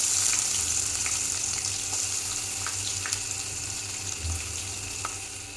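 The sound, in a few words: onions frying in oil with mustard seeds and curry leaves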